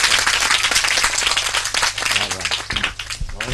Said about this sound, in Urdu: تالیاں لگائیں